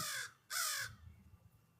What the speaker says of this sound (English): hear that bird yelling at me?